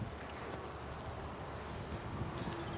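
Steady wind buffets the microphone outdoors beside beehives on a very windy day, a continuous broadband rush with gusty swells and no voices.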